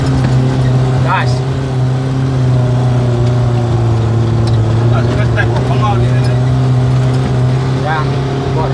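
Off-road vehicle engine drones steadily and loudly with a strong low hum while climbing a rough mountain track toward Puncak Guak Nyandau, with faint voices and rattles mixed in.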